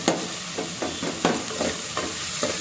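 Tomatoes and coriander fry in a pan, a soft steady sizzle under repeated stirring scrapes that come in regular strokes, close and fairly quiet, no voices.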